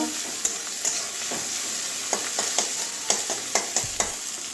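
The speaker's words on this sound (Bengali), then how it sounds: "এবারে আদা রসুনের পেস্টটা দিয়ে দিচ্ছি হালকা ভেজে নেব কাঁচা গন্ধটা যাওয়া পর্যন্ত" Ginger-garlic paste frying in a pan for a vegetable curry with peas, a steady soft sizzle broken by repeated scrapes and clicks of a spatula stirring, close and alone without talk.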